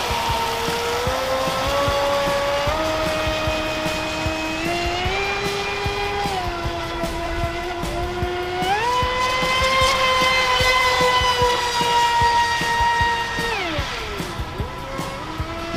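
A Traxxas Disruptor RC speedboat runs at high speed, its electric motor whining in rising and falling pitch sweeps as it accelerates, fairly near and loud, with no talk.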